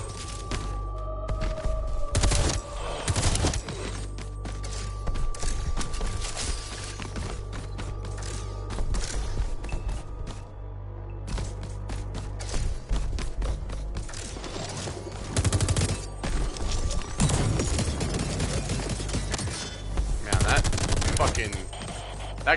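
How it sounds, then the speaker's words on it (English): A gun fires in the video game Metal Eden, loud automatic bursts tearing through armor, mixed with clanking mechanical clicks and a steady low hum, the shots arriving in repeated clusters throughout. "That gun just rips through that armor."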